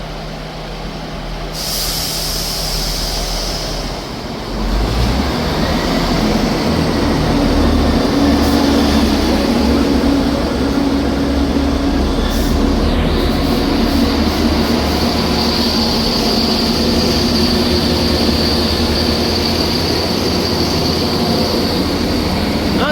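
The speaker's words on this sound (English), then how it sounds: "Departing out there is the 1520 ScotRail service from Cowdenbeath to Edinburgh Waverley" A ScotRail Class 158 diesel multiple unit pulls away from a station platform, its engine roar rising loudly and steadily alongside rumbling wheels and occasional squeals, with no voices.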